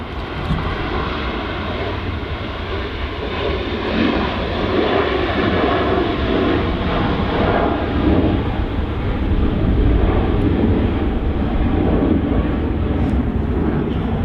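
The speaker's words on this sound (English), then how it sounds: "Jet2 Holidays 737." A Jet2 Holidays Boeing 737 airliner flies past, a steady broad engine roar that slowly swells louder, with wind noise on the microphone.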